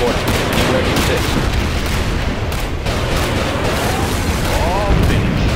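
Heavy booming fire from a USA main battery in Command & Conquer Generals Zero Hour rumbles continuously through a dense, loud battle din, with a brief voice line in the mix.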